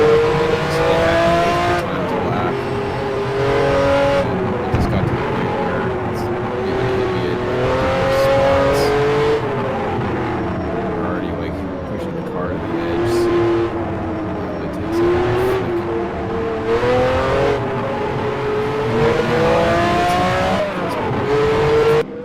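Onboard engine of the number 111 Ferrari 512 BBLM race car at Mid-Ohio in a sim racing game, roaring loudly and continuously with rising and falling revs through gear changes.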